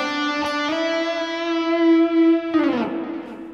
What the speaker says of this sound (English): Adding more reverb to your tone gives you an atmospheric sound